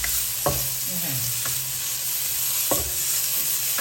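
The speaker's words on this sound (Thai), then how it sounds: "ผัดพอให้มันหอมค่ะ" Garlic sizzles steadily in a hot pan without oil while a spatula scrapes and stirs in a few sharp strokes, close and clear.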